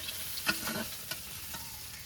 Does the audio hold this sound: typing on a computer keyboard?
no